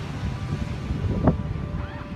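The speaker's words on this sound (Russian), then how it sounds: "И мы видим волны" Ocean waves wash in steadily under gusting wind on a crowded Huntington Beach, California, with a low continuous surf roar and wind buffeting the microphone.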